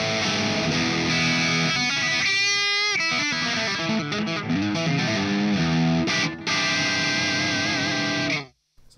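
Distorted electric guitar played through a Greenback speaker preset in the SpeakerMixPro plugin, a loud crunchy rock riff with sustained chords and bending notes, ending abruptly in silence.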